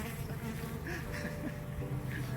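A man imitates a honeybee with a steady buzzing drone, held continuously for a couple of seconds at moderate loudness without words.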